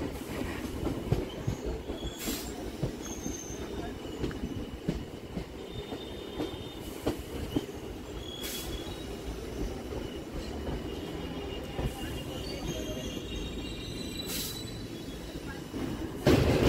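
A Sealdah-Dankuni local train runs steadily on its rails, a continuous loud rumble with clickety-clack of wheels over joints and occasional squeals, heard from inside the carriage with no talk.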